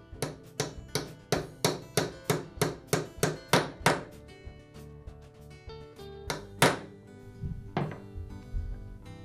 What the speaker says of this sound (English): tap it in place with a hammer